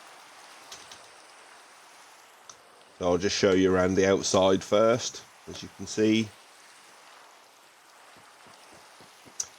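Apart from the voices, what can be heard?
rain falling in the video game Minecraft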